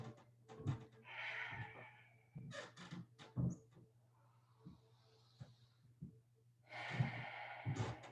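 Several short nasal sniffing inhales and breathy exhales during a slow yoga flow, close and soft, repeated in a loose rhythm over a faint low hum.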